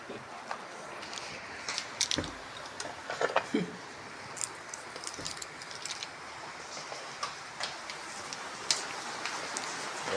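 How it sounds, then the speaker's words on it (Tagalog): Rain falls steadily during low-pressure weather in the Philippines, a constant close patter and hiss with scattered drips and light thuds on surfaces, a voice speaking faintly beneath. "Ayan po guys, umuulan."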